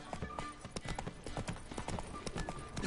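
Hooves of the horse Roach clip-clop in The Witcher 3: Wild Hunt, a brisk, even rhythm of close, clear hoofbeats over a short stretch, with faint music or ambience beneath.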